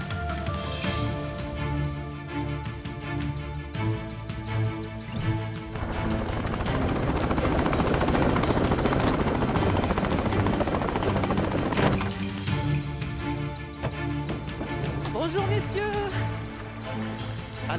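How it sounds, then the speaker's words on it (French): Helicopter flying over the Côtes-d'Armor coast, a steady broadband rotor and engine roar that swells to its loudest in the middle, set within music. "Moi, je vais rejoindre mon hélico."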